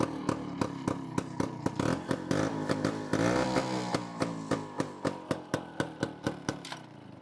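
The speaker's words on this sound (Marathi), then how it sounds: "वन किक मध्ये गाडी सुरू होते आपली." A Bajaj Chetak scooter with a faulty silencer idles close by, a loud, rough engine with a strongly regular thumping beat that swells briefly as it revs before dropping back to an even putter.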